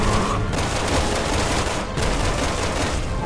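Heavy overlapping gunfire in the video game Resident Blossom, a loud continuous fusillade of rapid shots with only a brief dip in intensity partway through.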